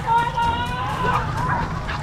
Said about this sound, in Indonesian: Sekarang terdengar suara anjing ini gonggong lebih keras dan lebih ramai lagi.